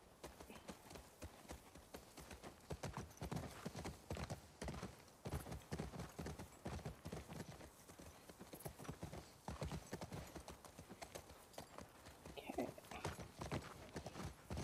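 Horse hooves clip-clop steadily at a walking pace in The Last of Us Part II, close and continuous through the whole stretch, with a voice talking over them.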